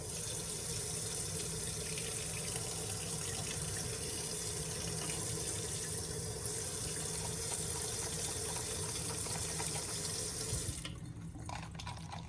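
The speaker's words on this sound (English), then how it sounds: "and then you just add some hot water." Hot water pours from a tap into a container during a clothes-upcycling project, a steady close splashing rush for about eleven seconds that then drops away abruptly.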